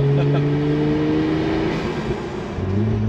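A Nissan Stagea GTR's turbocharged engine and exhaust drone loudly and steadily from inside the car, a deep, continuous rumble that holds for several seconds.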